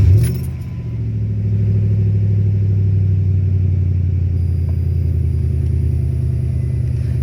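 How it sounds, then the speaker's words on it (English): Supercharged Crown Victoria with an M90 blower cranking briefly and catching, then settling into a steady loud low idle rumble with a faint whine on top, close up and alone. "But anyway, we'll fire up the car."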